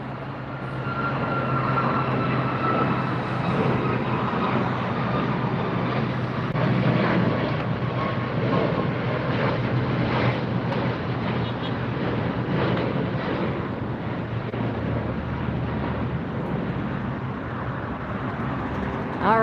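An Alaska Airlines jet passes at LAX airport, its broad steady engine roar filling the scene with wind buffeting, while a voice speaks briefly over it.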